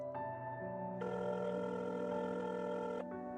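A telephone rings in the horror game Madness in Bloom, a steady electronic ring that brightens midway and then drops back, clear and alone.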